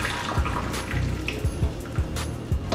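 Water splashes and gurgles steadily as soaking water is poured off salt fish into a sink, with little drips and sloshes punctuating the continuous flow.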